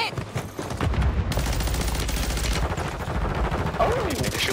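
Warzone 3 gunfire erupts in rapid automatic bursts, loud and close, a dense string of shots running almost without pause under faint background game noise.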